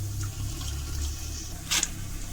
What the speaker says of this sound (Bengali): এটার মধ্যে আগে থেকে জল বসাইয়ে রাখলাম, জলটা ফুটিয়ে উঠেছে।